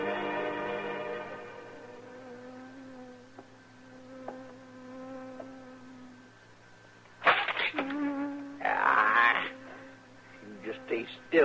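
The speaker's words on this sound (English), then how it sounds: "Doggone bee buzzing around his head" A bee buzzing around a man's head as a radio drama sound effect: a steady, droning whine for about six seconds, then voices and louder bursts take over.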